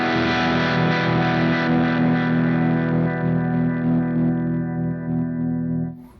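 Electric guitar runs through a Walrus Audio tremolo pedal set to a random, unpredictable chunking pattern. A single loud sustained chord wavers and pulses irregularly, then cuts off near the end, with no talking.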